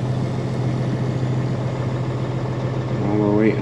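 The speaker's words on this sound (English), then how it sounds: "Charge the trailer brakes. Let this janky ass trailer air up" A Peterbilt truck idles with a steady low rumble while its trailer brakes charge with air, and a voice speaks over the engine toward the end.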